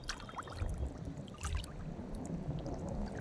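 Sea waves growing stronger at Balubad Beach Resort in Atimonan, a broad rushing wash of water with surging swells, moderately loud and without talk.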